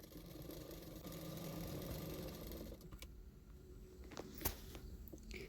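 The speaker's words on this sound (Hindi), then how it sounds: "अभी उसको फोल्ड करके सिलाई भी कर लूँगी" A sewing machine runs steadily while stitching the folded front piece of a 38-inch blouse. The mechanical hum is close and continuous at first, then drops away into quieter handling clicks and a sharp tap.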